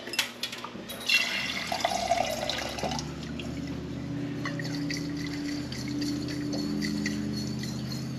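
Running tap water pours over sprouts being rinsed, a steady close splashing and trickling stream that starts with a few clunks and sloshes, then settles into a continuous even flow.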